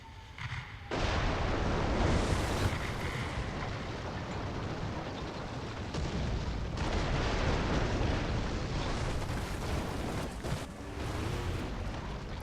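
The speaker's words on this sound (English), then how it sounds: "Call artillery on him. Artillery, fire!" Artillery strike in the War Thunder tank game, a sustained roar of heavy shelling with rolling blasts and booming impacts that fills the whole stretch, loud and dense after a brief quieter opening.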